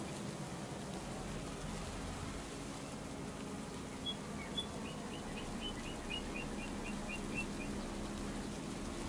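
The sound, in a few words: rain falling in the video game Farming Simulator 25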